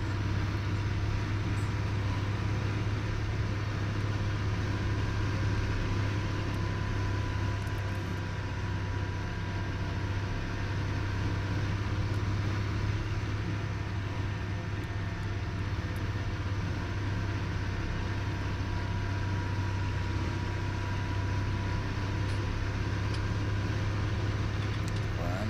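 A farm vehicle rolls across a field in Landwirtschafts-Simulator 19, a steady low engine drone and rumble holding level without a break from start to finish.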